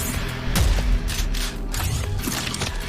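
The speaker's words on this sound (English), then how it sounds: "The shotgun has a charged up shot." Charged shotgun shot in the shooter game Prodeus, heard as a mechanical clack-and-boom followed by a few more rattling blasts and metallic action noises, loud and busy with no voice.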